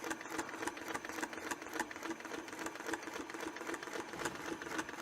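A sewing machine stitches an oval October table topper with short stitches, its steady rapid mechanical whir and rattle running loud and close throughout, with no talking.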